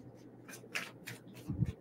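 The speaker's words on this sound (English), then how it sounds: "Give one quick shuffle." Tarot cards are shuffled close by in a quick series of soft riffling swishes, ending with a louder thump as the deck is squared.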